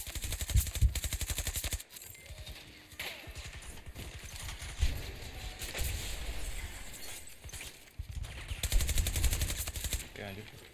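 Rapid bursts of automatic gunfire and single shots in a Battlefield video game, with loud clusters separated by short lulls and voices talking over the action.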